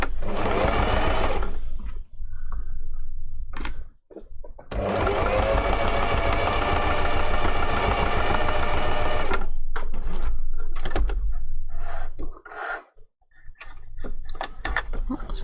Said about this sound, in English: back stitch at the start and the end, and we're going to stitch these all in a order